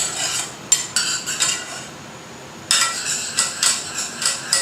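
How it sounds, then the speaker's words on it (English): Risotto with melted parmesan is stirred in a pot, a spoon clinking and scraping against the sides in quick rhythmic strokes, close and clear, with a short pause midway before the stirring resumes, with no talk. "we stir very well till the parmesan is melted"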